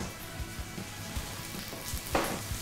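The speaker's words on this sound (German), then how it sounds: "Tofu, na, das kann erstmal noch brutzeln." Tofu frying in a pan, a faint, steady low sizzle with scattered small pops and crackles, one slightly louder burst near the end.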